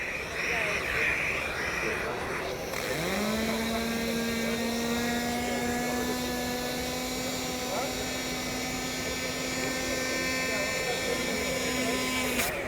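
Small car-care extractor cleaning machine switching on and running, its motor rising into a steady high whine with a constant tonal hum, heard under someone talking nearby.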